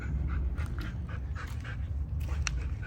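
Loud, rapid panting from an excited dog close by, with rhythmic breathy bursts over the continuous low drone of an idling Storm 200 minibike with a 196cc engine.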